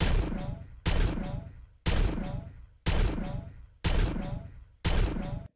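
A Gundam-style funnel weapon fires in an Unreal Engine 5 game setup, six loud, sharp energy blasts at even intervals of about one second, each decaying before the next.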